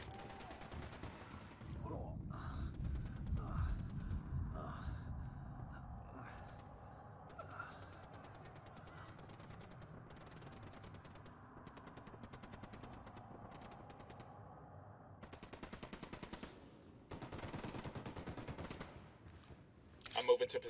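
Bursts of automatic gunfire in the tactical shooter Ghost Recon, quiet and somewhat distant, with clusters of shots through the opening seconds and again near the end, alongside soft game ambience and occasional voices.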